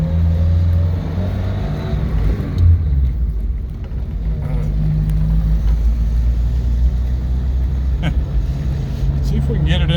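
A 1956 Ford Anglia 100E drives along with a steady, loud low engine rumble that rises and shifts as gears change, with a person talking inside the car.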